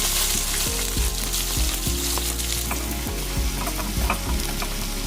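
Meat frying in a pot with bay leaf, chilli, a handful of sugar and chopped onion, giving a loud, steady sizzle with repeated scraping stir strokes in a regular rhythm, no talking.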